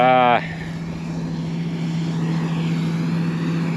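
A tractor engine drones steadily while pulling a chisel plow through a field, a loud constant low hum with a brief higher tonal sound at the very start.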